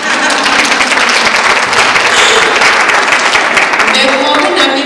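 An audience at a motivational talk breaks into sustained, loud applause that fills the room for several seconds, dense clapping continuing evenly throughout.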